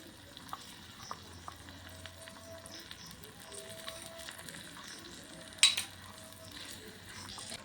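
Garlic paste sizzling in a pan in a small home kitchen, a steady soft crackling hiss with a few light clicks and one sharper metallic tap near the end.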